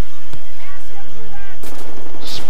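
Loud gunfire from the shooter video game Wolfenstein: The New Order, several sharp close shots spread across the clip, the last burst the loudest.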